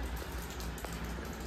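Rain falls in a steady, dense patter with faint scattered drop hits, continuous and fairly close throughout the short stretch, with no voices over it.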